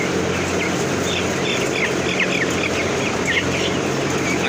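Fifteen-day-old broiler chickens cluck and chirp busily in a two-level colony coop, a dense, continuous flock chatter over a steady low mechanical hum.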